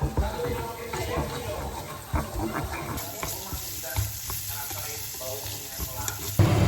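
Sliced onion sizzling and frying in a pan over lowered heat, a steady crackling hiss with occasional stirring scrapes while someone talks over it.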